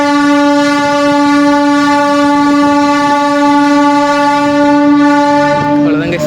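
A MEMU passenger train from Trichy to Villupuram on Indian Railways picks up speed, its loud, steady, tonal electric whine filling the carriage with a rolling rumble beneath it.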